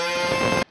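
A small electric motor for a homemade electric fan whirs with a steady, high, buzzing hum at close range for under a second before cutting off abruptly.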